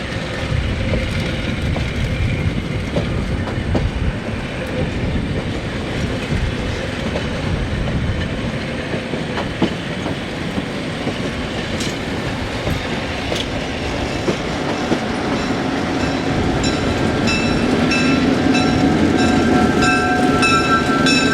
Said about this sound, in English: locomotives shoved their trains back to the museum station